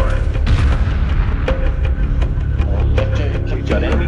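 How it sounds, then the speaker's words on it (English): Space battle gunfire and booming impacts from Homeworld Remastered, a dense, loud continuous barrage of sharp cracks over a rumbling low roar, with radio-style voices talking underneath. "We're under fire."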